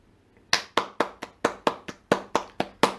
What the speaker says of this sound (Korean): 귀찮아서 제 자체 박수로 리얼한 제 박수 소리로 대체하겠습니다